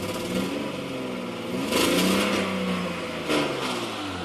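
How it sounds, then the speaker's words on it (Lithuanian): A worn BMW E39 523i's six-cylinder petrol engine idles roughly, then revs up in two short, close throttle blips before settling back, with no voices. "Įsivaizduokit, jeigu ant laisvų va šitaip gazuojasi."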